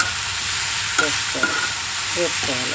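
A bottle gourd curry with sesame powder fries in a pan, giving a continuous close sizzle with a few scraping stirs, and a voice speaks briefly over it.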